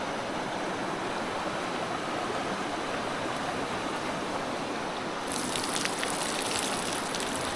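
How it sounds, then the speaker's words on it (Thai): Rice-washing water poured out onto the ground outdoors makes a steady, close splashing rush, growing brighter and more hissing near the end, with no voices. "เนี่ยจะเทน้ำสาวข้าวไป"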